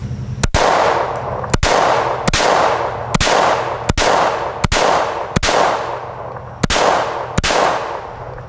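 Walther P22 pistol fired at a range, about nine sharp, loud cracks spaced roughly a second apart, each trailing off in a brief echo, with no talk between shots.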